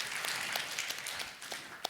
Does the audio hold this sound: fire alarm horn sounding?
no